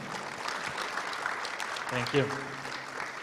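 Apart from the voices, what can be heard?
applause for the conference speakers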